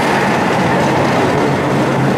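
A fair roller coaster running two trains at the Florida State Fair clatters along its track in a steady, continuous roar of rumbling wheels and rattling cars, with no talking.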